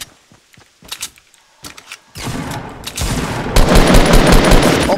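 Video game gunfire from a sniping match, with sparse early shots building into dense, loud, continuous bursts of rapid fire toward the end.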